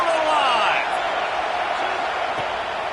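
Stadium crowd roars continuously through a college football video game, Alabama versus Texas A&M, a loud steady wash of cheering with a few whoops rising early and fading slightly.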